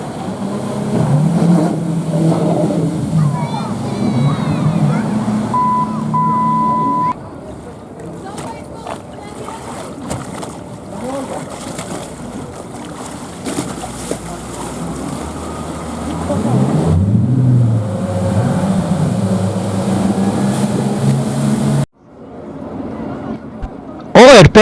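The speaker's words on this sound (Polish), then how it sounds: "W basenie portowym można było podziwiać popisy sternika łodzi motorowej." A motorboat's engine rises and falls as it performs stunts in a harbour basin during a naval minesweeper squadron anniversary event, revving and surging at middle distance while someone speaks over it throughout.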